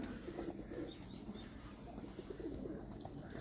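Golden pigeon of the Lattu breed line, kept in a Karachi loft, cooing in soft repeated low murmurs up close, with faint chirps and steady background noise, no talk.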